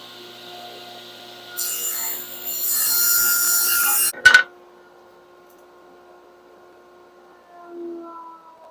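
A wooden board is sawn into one-inch strips, giving a short burst of harsh rasping cuts followed by a sharp clatter and then near quiet, with no talking.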